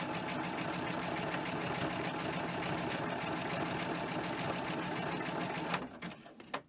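A sewing machine runs continuously with a double needle, stitch width raised from 2.5 to 3.5, whirring steadily and close for nearly six seconds before stopping with a couple of small clicks.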